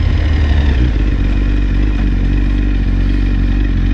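BMW S1000RR sport motorcycle engine running up close, a loud and steady mid-pitched drone with a rough mechanical edge that holds constant throughout without any talk.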